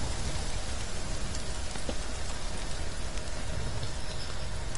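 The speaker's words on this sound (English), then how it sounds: "It's raining, though." Steady rain falling in a forest, a dense, continuous close patter of drops on leaves and ground, loud and even throughout with scattered sharper drips and no voices.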